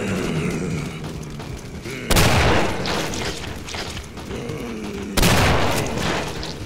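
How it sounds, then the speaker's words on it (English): Shotgun blasts in the video game Killing Floor, two loud, booming shots about three seconds apart, each with a sharp crack and a rumbling tail over a busy game background. "That shotgun has a pretty good range on it."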